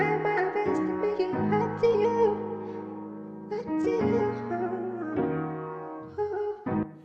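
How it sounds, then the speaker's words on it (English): An afroswing vocal line raised back to its higher original pitch, with held, smoothly shifting sung notes and a touch of reverb, clear and upfront with no talking. "But then once we pitch it back to how it's meant to be, now it sounds like this."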